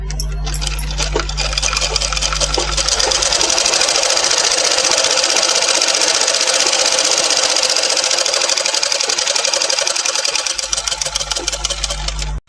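A tailoring sewing machine stitches a small fold in cloth, its fast, loud, rhythmic mechanical whir running continuously for most of the stretch, with a low motor hum at the start and end.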